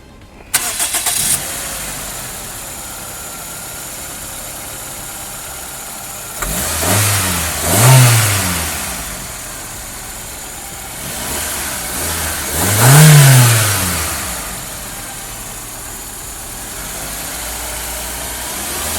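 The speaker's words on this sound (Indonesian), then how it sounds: "Tapi sekarang kita pengen coba dengar raungan mesin 1800 ya, kayak apa sih?" A Toyota Corolla Conquest with a 1.8 7A-FE engine and automatic transmission cranks over, then gives two separate revs that swell and fade around a steady idle, loud and close, with no talk.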